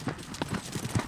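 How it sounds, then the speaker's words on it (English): Horses' hooves clip-clop in a quick loping rhythm on a Montana riding ranch, with several firm, close, evenly repeating hoofbeats. "Wrangler Annie leads us on a nice long lope"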